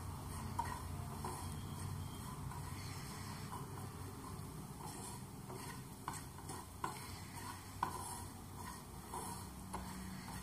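Samosa filling masala being stirred and mixed in a pan over a low gas flame, a steady soft scraping and shuffling with a faint sizzle underneath, a few louder clinks of the spoon against the pan.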